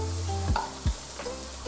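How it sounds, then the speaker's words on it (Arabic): Vegetables for an Egyptian-style low-oil moussaka sauté and sizzle in a pan, a steady frying hiss broken by a few short stirring scrapes, close and alone with no talking. "هسيبها تتشوح شويه"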